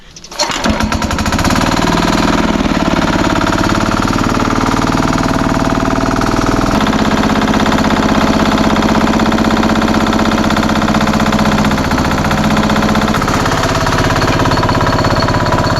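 Farm tractor engine hammering loudly and steadily at close range, a rapid pulsing chug that holds throughout with a slight change in tone partway through, no voices heard.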